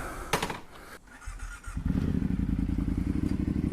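An Aprilia Dorsoduro 900 motorcycle starts after a few clicks and a short crank, then settles into a steady, close rumbling idle as its engine warms up.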